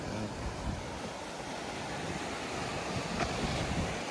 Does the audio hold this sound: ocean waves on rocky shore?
yes